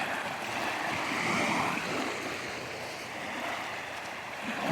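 Continuous wash of sea waves at the shore in Yeniçiftlik, Tekirdağ, a steady broadband rush rising and falling gently, heard alone with no voices.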